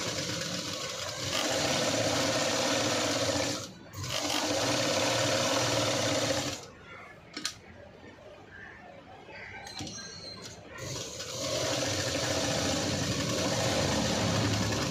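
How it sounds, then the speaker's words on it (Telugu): A sewing machine stitches a V-neck cut work blouse with a steady, close, mechanical whir. It runs in long stretches, stops briefly twice, and has a quieter pause in the middle before starting up again. "ఆల్రెడీ మనం వేసుకున్న మార్కింగ్ మీదే స్టిచ్ వేస్తాం."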